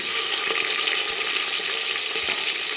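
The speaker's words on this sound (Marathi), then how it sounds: "ती एक मिनिटभर परतून घेऊ फक्त" Khichdi ingredients sautéing in a pan give a loud, continuous sizzle with faint stirring scrapes, no voices.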